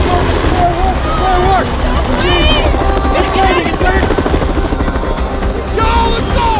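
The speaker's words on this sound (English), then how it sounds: "Hey, there's a helicopter!" A helicopter comes in to land in a zombie film scene, its loud, churning rotor roar filling the whole stretch while voices shout and call out over it.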